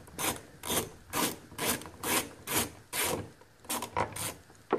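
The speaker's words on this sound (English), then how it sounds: "So let's get this nut off." Rhythmic ratcheting and scraping as a wrench works a nut loose during removal of a sound generator, repeated strokes at a steady pace, close and fairly quiet.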